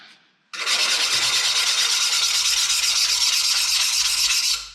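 A fine-grit diamond sanding block rubs along the cut edge of a ceramic tile, producing a loud, continuous close-up rasping scrape that starts abruptly after a short pause and holds steady for several seconds.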